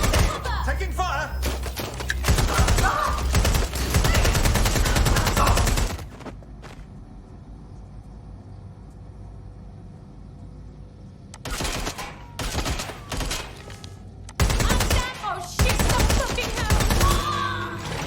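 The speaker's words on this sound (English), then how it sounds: "Taking fire!" Heavy gunfire from the Watch Dogs Legion video game: dense bursts of automatic shots blaze loudly at the start, drop into a quieter lull, then erupt again in several sharp volleys.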